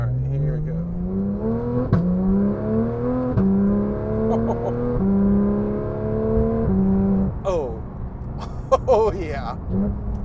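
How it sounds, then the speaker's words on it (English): A Porsche sports car engine roars close by, its pitch climbing and then stepping as it downshifts several times, loud and sustained. "listen to this downshift"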